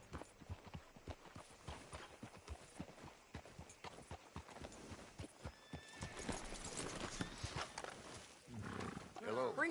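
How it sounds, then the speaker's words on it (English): Horse hooves clip-clop in a steady rhythm in Red Dead Redemption 2, joined by a whinny, while a character speaks over the trotting. "Get your horse up here."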